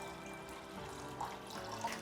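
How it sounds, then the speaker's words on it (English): Tap water runs steadily into a flower vase, a quiet continuous splashing and pouring that holds at an even level for the whole clip. "And now we need water in the vase."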